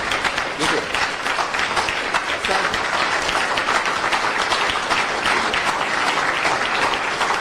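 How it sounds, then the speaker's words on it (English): A large audience bursts into loud, sustained applause after an official's speech, dense clapping filling the room at close range with a few voices mixed in. "A round of applause."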